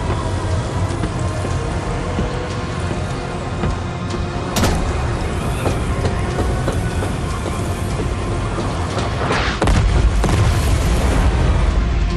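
Artillery explosions in the MechWarrior 5 Clans video game, a loud dense wash of booming blasts and rumble, with sharper impacts standing out near the middle and a heavier swell toward the end.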